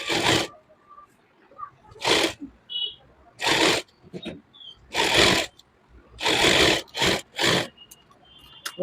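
A sewing machine stitches a suit neckline in a series of loud, close bursts of rapid mechanical whirring, separated by short quiet pauses with faint handling sounds.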